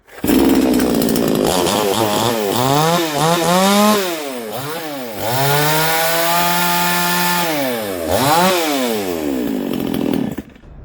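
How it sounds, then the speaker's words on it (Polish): A cheap Chinese gasoline chainsaw runs loudly close by, its engine revving up and down repeatedly in bursts before settling into a steady high idle and revving again. "Zwykła chińska piła chodzi tak."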